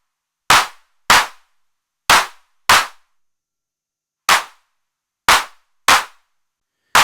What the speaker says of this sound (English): certainly helps to create those classic clap sounds that you'll be familiar with